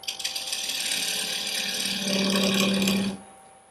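Small power tool countersinking a screw hole in a wooden propeller, a loud close whirring grind lasting about three seconds that deepens in pitch midway, then stops abruptly and leaves quiet room tone.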